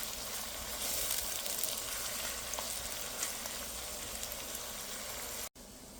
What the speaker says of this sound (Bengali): পেঁয়াজটা ব্রাউন কালার হলে তারপরে আদার আর রসুনের পেস্ট একটু কষিয়ে নেব।